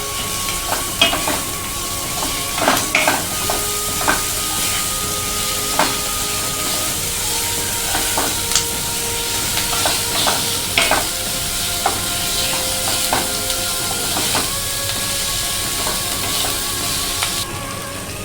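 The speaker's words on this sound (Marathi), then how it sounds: "आपण ठेचा टाकूया ठेचा व्यवस्थित परतून घेऊया" Green chilli thecha sautéing in a pan for a Maharashtrian urad dal ghutt, a steady sizzle with intermittent scraping stirs of a spatula running close and fairly loud throughout.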